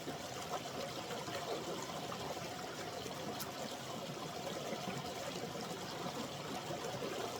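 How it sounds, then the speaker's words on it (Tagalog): River water flowing steadily at a quiet outdoor spot, a soft continuous wash and trickle that stays even and unbroken throughout, with no voices over it. "Ang maririnig mo lang yung tubig."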